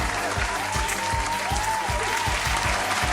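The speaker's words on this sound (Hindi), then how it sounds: "एक दफा फिर जोरदार तालियां हमारे आज के विनर के लिए, जो हैं हैरी।" Applause for Harry, the winner of a children's story quiz, a continuous wash of clapping at a steady level with a faint rhythmic low thump and a soft tone running through it.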